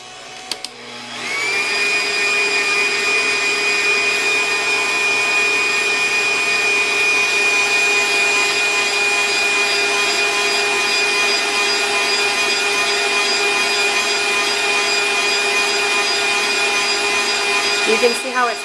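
An electric stand mixer whisking buttercream frosting with powdered sugar, starting up then running at a steady high-pitched whir for a long stretch before cutting off, loud and close.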